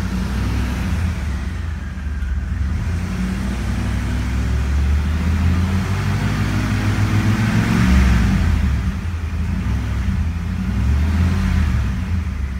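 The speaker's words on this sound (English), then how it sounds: "Revs up nice and smooth." A 1988 Mercury Cougar with about 79,600 miles on it revs from inside the car, a loud, smooth engine drone that climbs and eases back several times, steady and close with no talking.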